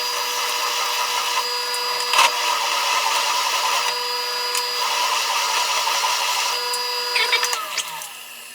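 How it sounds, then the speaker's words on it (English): Power tool boring out a small adapter fitting for a snug fit, a steady loud whirring grind held close for several seconds with a sharp knock near the start and a rougher burst toward the end. "So I think I'm just gonna bore this out just a hair until it's a real snug fit."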